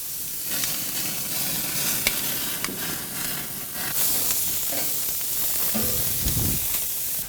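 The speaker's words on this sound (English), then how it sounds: "Just going to baste them with a little butter to make up for the fact there's no fat on these." Venison steaks sizzle loudly and steadily on a grill as butter is basted over them, a dense close crackling hiss with occasional sharper pops and spits throughout.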